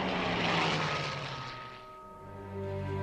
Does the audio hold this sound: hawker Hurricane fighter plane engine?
yes